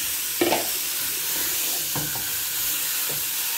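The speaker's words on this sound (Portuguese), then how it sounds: "E vou refogar ela aqui" Beef sautéing with garlic in a pan for stroganoff gives a steady close sizzle and hiss, broken by a few clicks and scrapes of a stirring utensil, with no talking.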